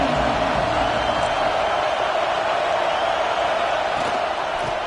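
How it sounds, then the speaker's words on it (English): Steady roar of a football stadium crowd at a game, loud and continuous with a broad wash of massed voices and no clear breaks. "This crowd ready to make its presence known."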